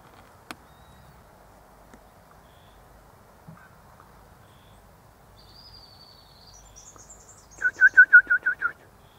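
A Grey Butcherbird (Cracticus torquatus) calls outdoors, giving a faint rising whistle and then a loud, near run of about six rich, fluting notes in quick succession near the end, with no talk.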